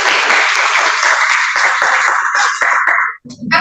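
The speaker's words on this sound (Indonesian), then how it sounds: "Beri aplaus dulu saudara." A loud burst of classroom applause from a group of students in a university teaching session, sustained for about three seconds before fading into a brief voice.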